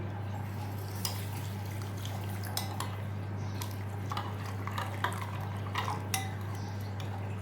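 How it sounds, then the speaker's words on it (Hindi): Water is poured onto two spoonfuls of basil seeds in a bowl, a soft continuous pour joined by light clinks of a spoon and dish against a steady low kitchen hum. "तो इसमें शामिल कर दूँगी मैं पानी।"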